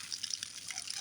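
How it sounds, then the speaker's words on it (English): Liquid poured slowly and carefully at a shooting range, giving a close, steady trickle with a light splash and no talk. "I'm trying to pour easy because if it's fragments, I don't want to lose them."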